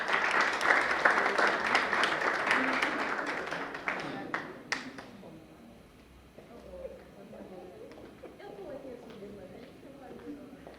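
Audience applause at a national debate competition final in Haiti, loud clapping at the start that thins out and dies away within a few seconds, leaving low room murmur and a voice.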